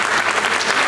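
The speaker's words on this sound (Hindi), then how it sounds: "तालियां।" Brief burst of dense audience applause at a recognition award ceremony, a steady wash of many hands clapping at once with no voices over it.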